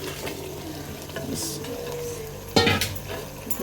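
Marinated boneless chicken goes into a masala in a handi pot, bringing a burst of sizzle and a metallic clatter over a steady, fairly quiet frying hiss.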